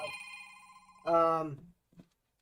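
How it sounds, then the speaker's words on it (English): A mobile phone rings during a live show with a short electronic melody, a few bright tones that stop abruptly, followed by a brief soft blip. "My phone ringing."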